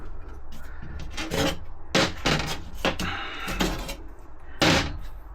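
Fresh MIG welds on steel being cleaned up for motorcycle trolley axles: loud, close rasping and scraping strokes in uneven bursts, with occasional heavier knocks and no talking.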